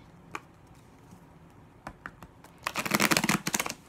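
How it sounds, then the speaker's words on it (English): Crisp, rapid riffling of a tarot card deck being shuffled up close, preceded by a few soft taps and handling sounds. "I'm just giving them another good shuffle, making sure that you guys can see."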